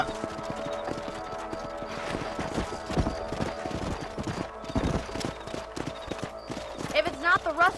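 Horses trotting in the Red Dead Redemption video game: a busy clip-clop of hooves with some rattling tack, short whinny-like tones near the end, and voices over part of it.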